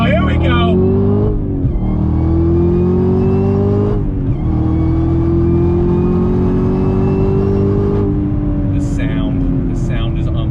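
A 2020 Camaro ZL1 1LE with its engine at full throttle roars loudly and continuously, its pitch climbing steadily through each gear before dropping at the shifts, heard from inside the car.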